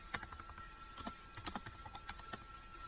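Rapid, uneven clicking of a computer keyboard as code is typed, steady keystrokes close by and fairly quiet with no talking.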